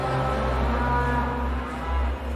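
Cattle lowing all around a Breton cow, a herd's overlapping moos sustained and close for the whole stretch, with no talk.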